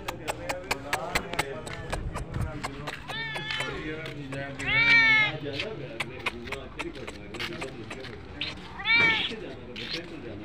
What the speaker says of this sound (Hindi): बड़ी प्यारी बिल्ली है यार